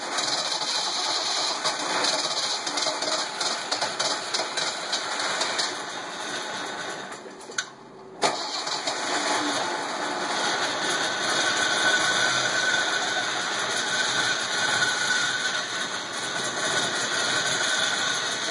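A 1973 Datsun 240Z with an L28 engine runs steadily at idle after its first start, a loud continuous mechanical drone with a brief dip partway through, close by.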